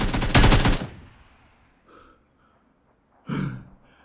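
In the PUBG video game, a weapon fires a rapid automatic burst up close, followed by a near-silent pause with faint noises and then a second short burst.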